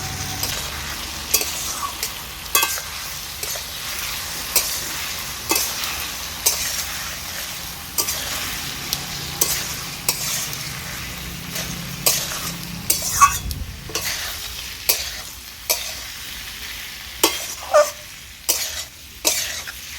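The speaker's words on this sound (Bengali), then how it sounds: "মশলাটা এবার আমি আস্তে আস্তে কষিয়ে নেব।" Spices and pumpkin sizzling in a hot pan while being stirred, with repeated scraping strokes at a steady rhythm and occasional coughs over the frying hiss.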